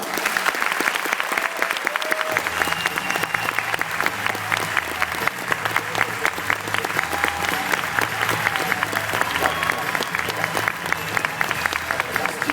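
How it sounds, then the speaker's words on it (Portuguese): Warm applause from a large audience at the Endeavor Day entrepreneurship event for Ozires Silva, the founder of Embraer, as he is introduced: dense, steady clapping that stays loud throughout with a low hum of the crowd underneath. "Uma calorosa salva de palmas"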